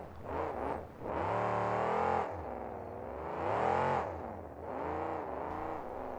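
Monster truck engines rev loudly in repeated surges and dips at a 2006 KORR Monsters freestyle event in Pontiac, Michigan, with the trucks crushing a bread van and van stack; close, continuous roaring with no talk.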